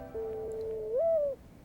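A mourning dove gives a single drawn-out, hollow coo that rises slightly near the end, clear and close against a faint background hush.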